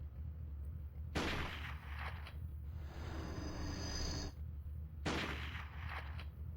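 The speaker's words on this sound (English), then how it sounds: "Sniper rifle." Sniper rifle fire in a video game: two sharp, loud shots about four seconds apart, each with a broad blast and a short decaying tail, over a steady low background hum.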